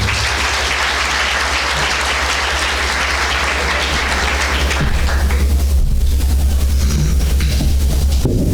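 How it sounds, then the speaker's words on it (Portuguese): An audience applauds to welcome a speaker at a spiritist centre event, loud, dense clapping that continues steadily, changing in tone partway through as the applause goes on. "Uma salva de palmas para ele."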